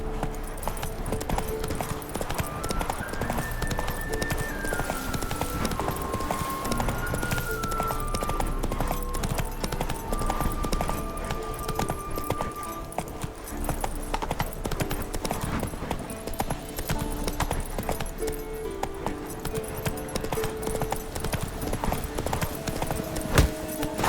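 The horse Roach gallops across The Witcher 3 game world, hooves pounding in a continuous fast clip-clop over a dense bed of game music and ambience, with no pause in the rhythm.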